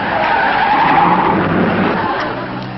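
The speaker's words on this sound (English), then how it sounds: "Oh, look, here comes a car." A car skids to a stop on the road, a sustained loud tire squeal lasting a few seconds with no talking over it.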